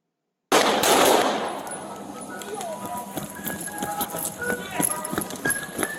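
Rapid bursts of gunshots in a police shooting, caught on a body camera on a street, crack through close and loud, with shouting voices and radio chatter amid the chaotic aftermath.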